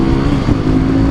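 A street rod motorcycle accelerating onto a highway, its engine a loud, steady droning roar heard up close, with no talking over it.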